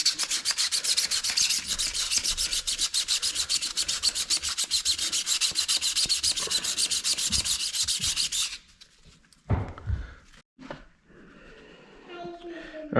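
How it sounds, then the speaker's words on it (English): 220 grit sandpaper is rubbed over scuff marks on a mower PTO gearbox part in fast, even back-and-forth strokes for about eight seconds. It then stops, followed by a few handling knocks and soft speech. "Just gonna sand up these scuff marks."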